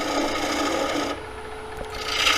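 An Ellsworth gouge cuts wood on a lathe while turning a square bowl, a steady close rasping scrape that shifts tone partway through, with no talking.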